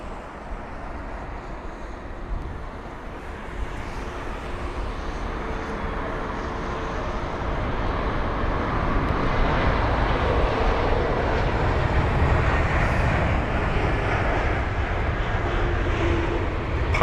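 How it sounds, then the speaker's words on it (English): An Airbus A321neo landing on runway 27 right at London Heathrow, a continuous broadband jet roar that slowly swells louder over the clip, distant but strong, without speech. "we've got the Airbus A321neo now. Here it is, runway 27 right for its arrival."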